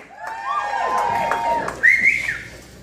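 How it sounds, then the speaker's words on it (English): An audience member at a comedy show whistles loudly in several rising and falling tones, with crowd murmur and someone speaking beneath it. "Whatever whistle just totally threw me off my game."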